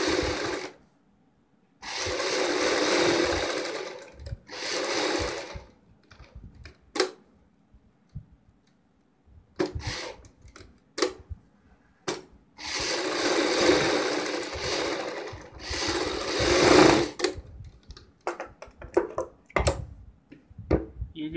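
Sewing machine stitching kurti neck fabric, running in loud, close bursts of a few seconds with quieter pauses and small clicks between runs.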